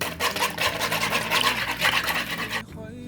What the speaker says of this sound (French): Je vais à nouveau mélanger.